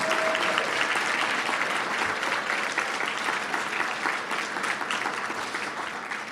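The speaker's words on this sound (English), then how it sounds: "Give Che another big round of applause." Applause from the audience at a student awards night, a broad, steady clatter of many hands that stays strong and then tapers gently over about six seconds.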